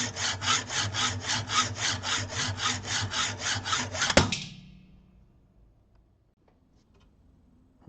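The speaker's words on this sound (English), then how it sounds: "now that I have the bolt shortened, and you can see where I made the cut is not perfect" Hand saw cutting through a bolt clamped in a vise, a steady rhythmic back-and-forth rasp of about a dozen close, loud strokes, then a sharp clank as the piece falls off and near silence follows.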